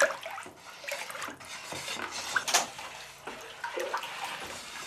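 Wet wiping and smoothing of a hand-thrown clay pot's surface in a Székely folk pottery workshop, soft watery rubbing strokes repeating close by without speech.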